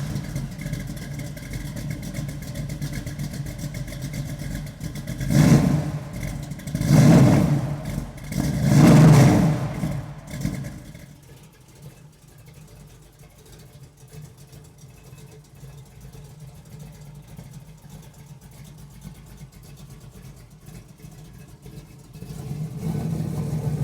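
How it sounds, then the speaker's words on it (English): Big block V8 in a 1968 Chevrolet Camaro Z28 tribute, revving in three strong bursts before settling to a lower idle rumble that swells again at the end, heard close and without speech. "who wants to listen to a stereo system when you got a big block V8 under the hood?"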